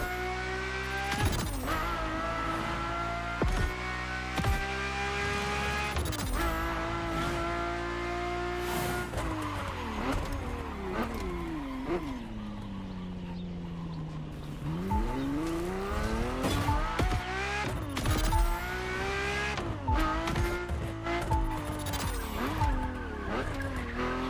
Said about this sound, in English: On one hand, the inspired and inspiring Ferrari F40. And on the other hand, nothing less than a road-legal Formula One, the Ferrari F50.